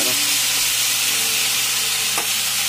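String beans (sitaw) sizzle and fry in a pan for adobo, a steady close hiss with faint stirring scrapes running throughout.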